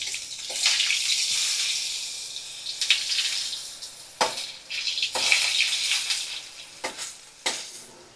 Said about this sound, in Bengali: বেগুনটা ভাজা করে নিই ভালো করে।